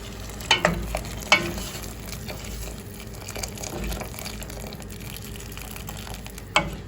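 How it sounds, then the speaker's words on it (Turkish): Frozen peas being stirred in a pot before water is added, a soft steady background sizzle with a few sharp clanks and scrapes of a utensil near the start and one more near the end, close by and with no talking. "şöyle birazcık karıştırıp suyunu ekleyeceğim arkadaşlar"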